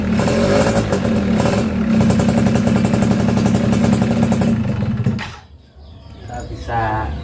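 A Suzuki Crystal motorcycle fitted with a Suzuki Tornado carburetor starts and idles with a loud, rapid, rattling close-up putter for about five seconds before cutting out, followed by a brief voice.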